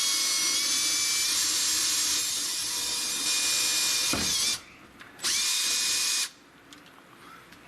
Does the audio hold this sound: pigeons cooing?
no